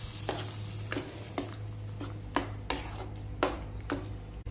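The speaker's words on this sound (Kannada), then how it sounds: "ಇವಾಗ ಒಗ್ಗರಣೆಯನ್ನು ಹಾಕ್ತೇನೆ." Spices tempered in hot oil over a gas stove sizzle steadily for a home-cooked curry, with sharp stirring or pan clinks every half second or so above a constant low hum.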